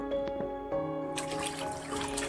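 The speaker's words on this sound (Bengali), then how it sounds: "এবারে কড়াতে কিছুটা জল দিয়ে" Water runs and trickles into a kadai (wok) in which jackfruit will be boiled, a steady close pour with a faint hum beneath.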